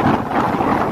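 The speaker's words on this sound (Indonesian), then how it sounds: "mohon maaf ya apabila suara kurang begitu jelas karena anginnya lumayan kencang juga" Strong wind buffets the microphone outdoors near the Bocimi toll road construction site, making a loud, continuous rumbling roar for the whole second.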